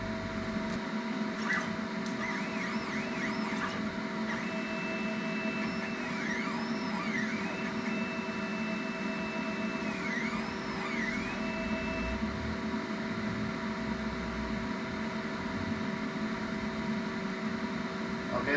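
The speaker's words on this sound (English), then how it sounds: "Okay, that was a dry run. I gotta turn that off." A CNC plasma table hums steadily through its dry run, the torch not firing, with a constant machine drone and a faint sweeping, sliding whine in the middle stretch, close and unchanging in level.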